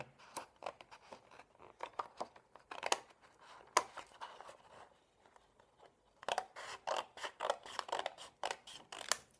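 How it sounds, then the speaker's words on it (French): Repeated close snips and slicing of scissors through paper, coming in irregular bursts with a quiet pause in the middle. "On prend une paire de ciseaux en coupe."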